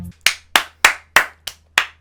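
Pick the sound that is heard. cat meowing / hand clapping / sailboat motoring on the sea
hand clapping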